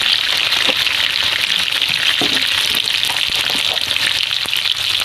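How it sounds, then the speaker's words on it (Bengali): Potato pieces frying in hot oil with a little salt and turmeric, cooked as part of a village-style mutton curry; a steady, loud, close sizzle with faint occasional stirring clicks and no talking. "এইভাবে আলুটাকে ভেজে নেবেন"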